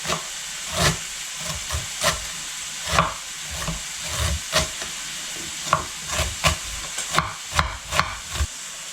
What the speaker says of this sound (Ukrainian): М'ясо обсмажується